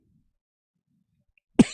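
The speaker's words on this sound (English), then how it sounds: "There's the first cough." A single sharp cough breaks the near-silence at the end, close and loud.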